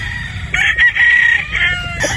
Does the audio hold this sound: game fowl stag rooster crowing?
yes